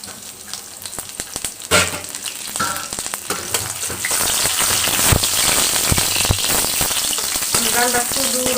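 Garlic frying in hot oil as a tempering for dal, a dense crackling sizzle like rain that swells louder and fuller partway through, with sharp spits and pops near the microphone.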